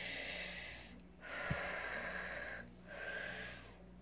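Slow, deep breaths recorded close and quietly, two long inhale-exhale cycles with a brief snort-like puff between, and no talking.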